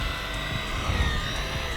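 Small Eachine E130 beginner RC helicopter flying and touching down, its steady rotor and motor whine running at an even, fairly loud level throughout, with a low rumbling hum underneath.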